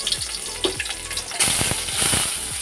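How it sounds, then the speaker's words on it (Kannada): Garlic goes into half a spoon of hot oil in a kadai, bursting into a loud, close sizzle with crackling pops that grows fuller and denser after the pieces hit the pan. "ಬಾಣಲೆ ಇಟ್ಟಿದ್ದೀನಿ, ಅರ್ಧ ಸ್ಪೂನು ಎಣ್ಣೆ ಹಾಕಿದ್ದೀನಿ, ಬೆಳ್ಳುಳ್ಳಿ ಹಾಕ್ತಾಯಿದ್ದೀನಿ"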